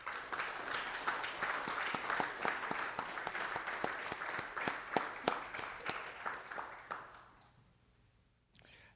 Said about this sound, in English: let's give all these Eagle Scouts a round of applause.